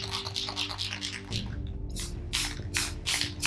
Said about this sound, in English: Spray some off to the side, make sure you're getting a nice clear stream of paint.